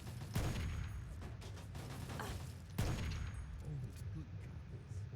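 A frenzied turret firing in Fallout 3's Operation Anchorage, sharp cracking shots and short bursts spread across the clip against a rumbling battle background.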